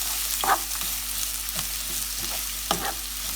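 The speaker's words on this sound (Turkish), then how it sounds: "bir baş büyük doğranmış soğanımızı ilave edip pembeleşene kadar kavuralım" Steady frying sizzle of chopped onion sautéing in hot oil until translucent, with occasional stirring scrapes and clinks, moderately close, no voices.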